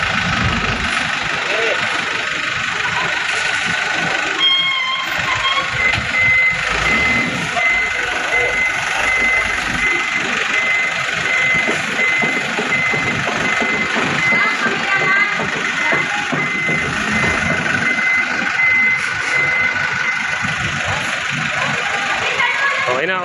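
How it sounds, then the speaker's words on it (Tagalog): Reversing beeps from a truck being parked, with the engine idling throughout at steady close range; the beeps repeat evenly under outdoor noise while people talk intermittently. "Ayan, naiparada na natin yung truck."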